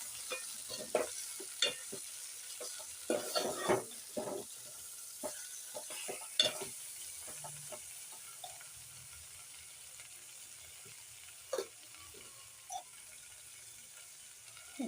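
Okra curry with salt and tomatoes is stirred in a pan, the spoon scraping and clacking in scattered strokes over a soft, steady sizzle, close and fairly quiet.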